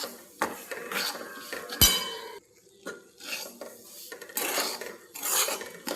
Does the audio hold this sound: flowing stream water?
no